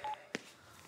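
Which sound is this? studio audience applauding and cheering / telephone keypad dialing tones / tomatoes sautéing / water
telephone keypad dialing tones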